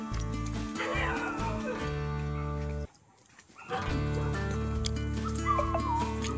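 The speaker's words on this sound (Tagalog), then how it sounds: "Huwag ka matakot. Aso lang yan." Dog barking and whimpering in a rural setting, a run of loud nearby yips and barks with a brief pause before more yelping resumes.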